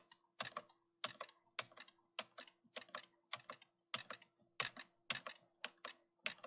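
Keys on a computer keyboard are pressed in a steady series of sharp, close clicks, roughly two per second, quiet and isolated with a faint background hum.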